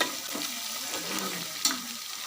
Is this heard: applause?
no